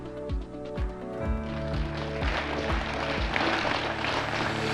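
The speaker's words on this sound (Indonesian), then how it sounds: "Tepuk tangan meriah para pemimpin G20 mengiringi sambutan penutup Presiden Jokowi" Leaders at the G20 summit in Bali applaud after a closing address. The clapping builds into a broad, steady wash of applause, heard together with a tonal musical backdrop and a series of low, rhythmic thumps.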